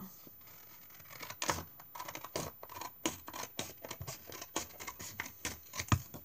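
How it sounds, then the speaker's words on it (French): Scissors cut through cardboard in a run of sharp, irregular snips and scratchy crunches, close and fairly quiet, with brief pauses between strokes. "Ensuite, je vais le découper. Voilà, j'ai les ciseaux."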